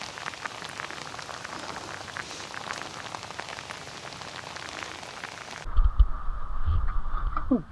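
Steady rain patters across a small farm for several seconds, a dense even hiss, then cuts abruptly to a louder, closer low rumble near the end.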